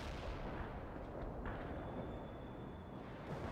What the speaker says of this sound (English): Fire the artillery, there.